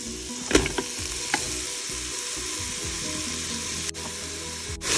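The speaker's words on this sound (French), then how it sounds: "J'ajoute les oignons." Chopped onions frying in melted butter inside a Cookeo electric multicooker, a steady close sizzle with a few brief clatters and stirring noises, no voices.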